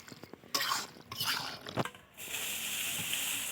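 A spatula scrapes and stirs chicken curry with potatoes in a pan in several close, rough strokes, followed by a steady hissing sizzle.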